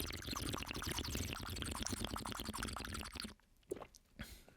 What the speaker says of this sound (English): Let me do a little slurp for you guys.